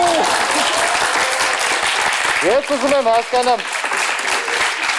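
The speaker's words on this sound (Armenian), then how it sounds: "դուք ծափահարում եք" An audience at an Armenian evening entertainment show claps loudly and steadily while a voice talks over the applause partway through.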